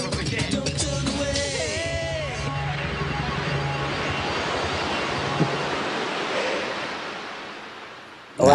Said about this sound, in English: That was the sound of the ocean that we were hearing